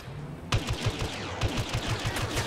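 Rapid blaster-style gunfire rattles in bursts during a Star Wars Battlefront survival match on Tatooine, loud and close, with quick repeated shots layered over background battle noise.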